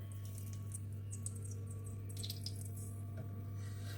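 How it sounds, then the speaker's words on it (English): Water poured into a cooking pot while making onion stew with chicken gizzards, a light continuous splashing trickle over a strong steady low hum, with no talking. "we are adding the water here"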